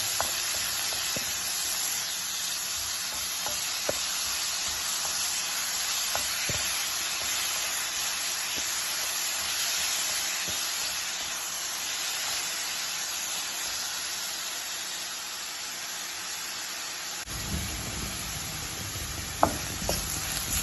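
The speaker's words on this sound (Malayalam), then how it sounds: "നമുക്ക് നല്ലതുപോലെ ഇളക്കുക." Onions for beef curry sizzle loudly in a pan, a constant bright frying hiss that runs the whole time, with occasional scrapes and knocks from stirring and no voices over it.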